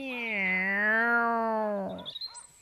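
A human voice imitates a cat's meow in one long, drawn-out, wavering call, followed by a few faint soft sounds.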